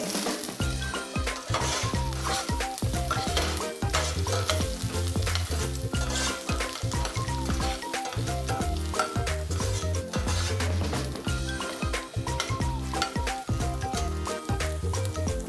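Ginger sizzling and frying in hot oil in a pan while being stirred, a steady loud crackle with rhythmic scraping and clinks of the spoon against the pan, no voices.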